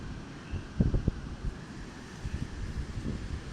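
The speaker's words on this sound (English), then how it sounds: "Look at the wind blowing through the trees, man." Wind rushes through trees beside the ocean as a steady broadband roar, with a few gusty thumps of wind buffeting the microphone and a faint wash of surf underneath.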